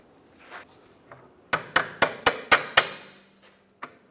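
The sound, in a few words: hammer tapping a bolt out of a BMW X3 lateral link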